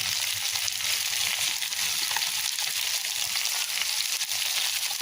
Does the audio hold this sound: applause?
no